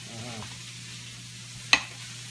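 Butter sizzles in a pan where walleye is frying, a soft steady hiss with a sharp clink partway through.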